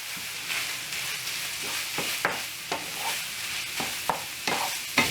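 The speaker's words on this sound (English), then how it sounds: "So put your sausage into a frying pan on medium-high." Sausage sizzles and crackles steadily in a frying pan on medium-high heat, broken by periodic scraping and stirring strokes.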